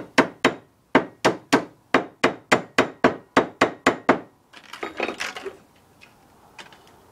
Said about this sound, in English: Gonna give it a little tap.